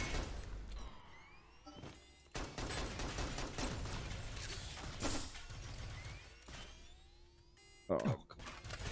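Rapid gunfire and combat effects from the Synthetik: Legion Rising shooter game, with bursts, crashes and whooshes layered densely and loudly throughout, plus a sharp impact near the end, while voices talk over the action.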